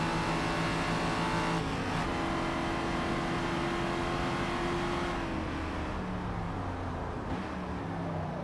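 A 600-horsepower race car engine in the Gran Turismo 7 video game roars loud and steady, with brief shifts in pitch as it revs and changes gear, and no talk over it.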